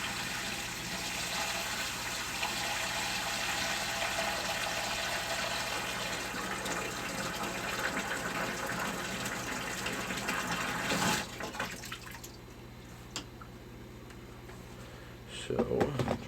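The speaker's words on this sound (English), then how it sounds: "So, drained a little bit of water out of there." Water runs steadily from an aquarium reverse osmosis unit as it drains, a continuous close rushing flow that cuts off abruptly partway through, leaving a quieter room with faint handling noises.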